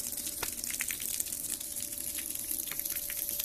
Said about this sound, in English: And it's draining the bucket of water at a pretty good rate.